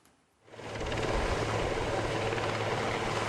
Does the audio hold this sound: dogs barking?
no